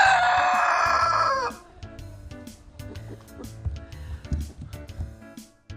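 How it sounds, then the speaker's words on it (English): Rooster crows once, loud and close, in a long strained call that cuts off abruptly, followed by softer farmyard clucking and scattered bird noises. "Roosters crow to announce the start of a new day or just to let everyone know they're around"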